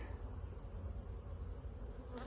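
Honey bees in a mating nuc buzz in a soft, continuous drone, with no voices present.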